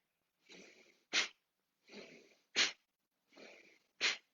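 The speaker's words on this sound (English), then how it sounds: "As you exhale through the nose. But try to keep that exhale just as forceful." Forceful exhales through the nose during a home yoga breathing practice, three loud sharp bursts in a steady rhythm, each preceded by a softer, longer breath, close and with no talk.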